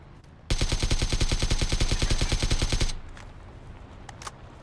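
Rapid sustained automatic gunfire in PUBG as the loot truck is shot up, a loud, dense burst of evenly spaced shots lasting about two and a half seconds before cutting off into quieter ambience.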